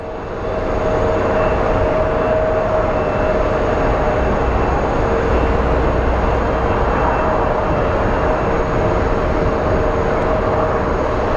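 Jet aircraft landing and taking off at Phoenix Sky Harbor airport, a loud, continuous engine roar and rumble holding steady throughout without voices.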